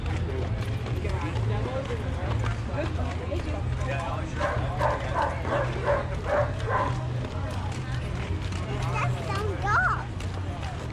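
A dog barks and yips several times over a steady low rumble, with people talking throughout.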